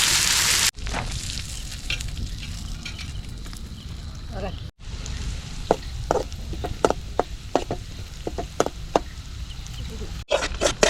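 Fish fries in a pan with a continuous loud sizzle, broken by scattered sharp pops and clicks of spattering oil and two brief cut-outs.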